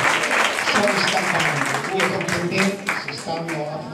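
Audience applause at a political debate between Canelli and Ballarè rises in a dense, steady patter of clapping, with a voice speaking over it throughout.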